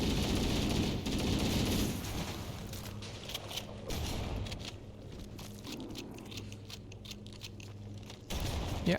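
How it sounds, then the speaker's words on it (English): Video game gunfire and combat from Halo rumble in bursts at moderate level, with crunching impacts and mechanical clatter and no talking. "I'm probably supposed to go towards the sound of gunfire."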